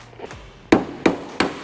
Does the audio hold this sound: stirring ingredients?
no